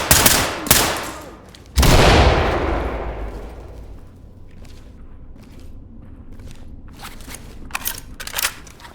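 Gunfire in a video game police shootout, a loud burst of shots at the start followed by a reverberant boom that slowly decays, then scattered quieter shots and rattling toward the end.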